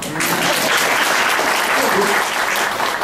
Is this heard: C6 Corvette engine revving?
no